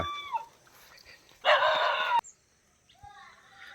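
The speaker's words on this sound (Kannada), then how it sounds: "ಕೋಳಿ ಇದು" A chicken clucks and squawks nearby, with a loud burst of flapping or scuffling in the middle, then softer clucks after.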